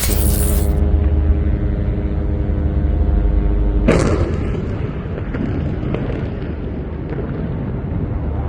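A bomb blast in Gaza erupts with a loud, deep rumbling boom, then a second sharp burst near the four-second mark gives way to a long, noisy rumble with scattered crackles.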